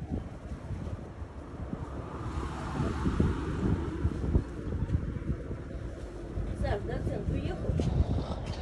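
Outdoor wind rumbles across the microphone on a street, a steady low roar swelling in gusts, with people talking faintly beneath it.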